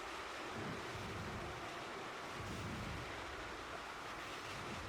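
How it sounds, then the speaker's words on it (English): Wind blowing outdoors in the stealth game Splinter Cell Pandora Tomorrow, a quiet, steady rushing whoosh with slight gusty swells and no voices over it. "it's a little windy out here"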